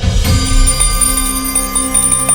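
A metal bell rings out loudly with a bright, sustained metallic tone, its overtones ringing on after repeated strikes in a home setting.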